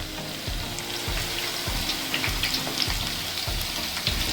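Crispy fish fingers frying in oil over low heat, a steady close sizzle with soft bubbling and a regular rhythmic thump as the pan or pieces shift, with no voices.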